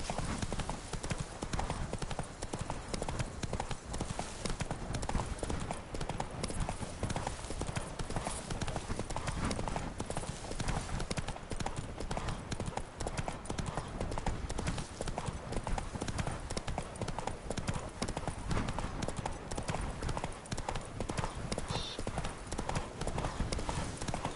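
Steady clip-clop of Roach's hooves as Geralt rides the horse in Witcher 3 Blood and Wine, a continuous loud trotting rhythm across the whole stretch with busy game ambience underneath.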